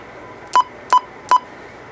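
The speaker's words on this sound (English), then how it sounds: "we don't want the beep on every time we change channels" A Magnum CB radio gives three short, clear electronic beeps as its buttons are pressed, evenly spaced about 0.4 seconds apart over a faint background hiss.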